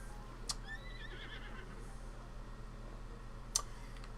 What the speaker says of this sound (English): Those are horses.